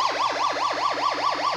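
A homemade siren generator wails in quick rapid yelps that repeat without a break. The tone is loud and electronic and has no voices over it.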